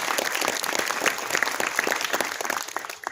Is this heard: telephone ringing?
no